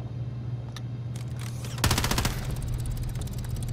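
Rapid automatic gunfire in Call of Duty, a sharp sustained burst of quick repeated shots after a few isolated pops, close and loud over a steady game hum.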